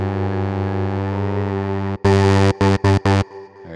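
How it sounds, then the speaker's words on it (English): A buzzy synthesizer drone holds steady, then cuts into a few short loud bursts of tone layered with a sine wave, with brief gaps between them. "Let's layer that with like a sine wave."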